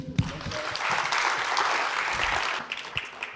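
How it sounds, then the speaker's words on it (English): Audience applause at a marketing seminar session, a short burst of clapping from a modest crowd that swells quickly, holds for a couple of seconds and then thins out. "Give him a round of applause."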